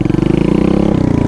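A Chinese enduro motorcycle pulls away in first gear, its single engine loud and close with a rapid, steady firing pulse that rises slightly in pitch as it accelerates.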